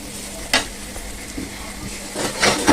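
Ingredients for chicken biryani sizzle steadily in hot oil until browned, a continuous close frying hiss with a few sharper crackles and stirring clatters, no voices.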